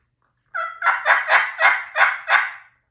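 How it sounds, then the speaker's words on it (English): Wild turkey gobble, loud and close after a short silence: an opening yelp-like note, then a rapid rattling series of about six pulsing gobble bursts that taper off, with no other sounds. "that, he gobbles."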